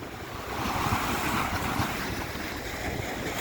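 Waves at Blackpool Central Beach on an ebbing tide wash steadily onshore, a broad continuous rush mixed with wind buffeting the microphone, with no talk.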